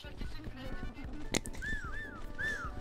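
Whistling in the video game Broke Protocol, several short rising and falling whistles in quick succession amid background chatter and game noise, with people talking.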